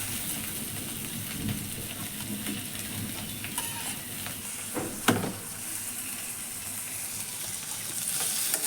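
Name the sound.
onion, garlic and tomato frying for squid masala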